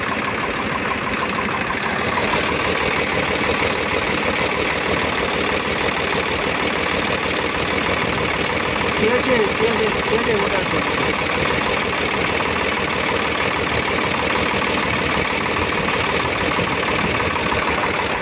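An old tractor engine runs at a steady idle, a continuous rumbling drone that stays level and close for the whole stretch, with a voice talking faintly underneath.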